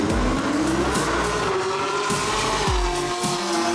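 A Camaro race car runs on a hot, greasy track, its engine droning loud and steady throughout with rising and falling pitch, brief tire squeal and low thumps as it drives past the listener.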